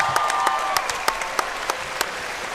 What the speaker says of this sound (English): how about a nice round of applause for 2 great warriors